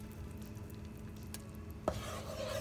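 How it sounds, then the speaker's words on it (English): Cream being stirred in a pan for lemon butter salmon with garlic and ginger, a soft, faint scraping swirl under a low sizzle, with one sharp tap of a utensil against the pan. "I keep on stirring it."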